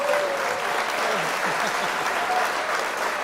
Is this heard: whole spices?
no